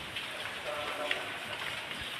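Soft, continuous patter of rain falling on a surface, fairly faint and even throughout.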